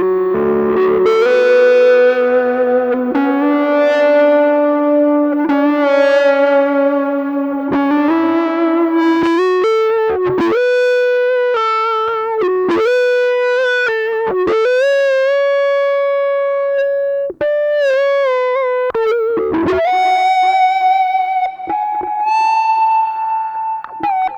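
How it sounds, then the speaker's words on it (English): A sustained electric guitar, played dry with no effects, plays a slow melodic line of held, bending notes with a buzzy tone, loud and continuous, with no other instruments. "to show you the sound of the guitar entirely dry and how it sat in a mix"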